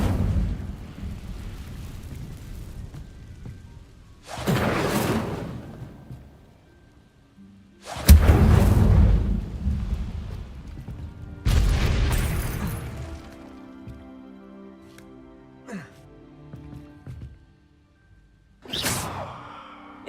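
Incendio fire spell cast in Hogwarts Legacy, several separate whooshing bursts with deep booming bodies that flare up and fade over a few seconds each, spaced apart by quieter stretches.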